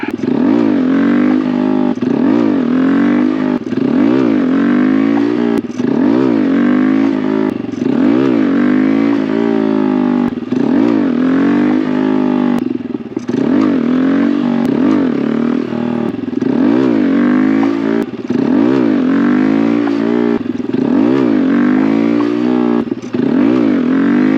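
A Honda Grom motorcycle engine revs hard and repeatedly for a wheelie attempt, rising and falling in quick throttle blips, loud and close throughout with some mechanical clatter.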